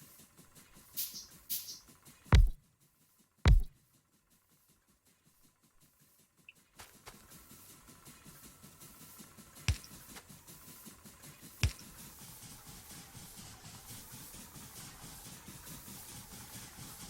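Steam engines running in the Factorio video game give a quiet, steady mechanical hum, preceded by a few sharp clicks and knocks.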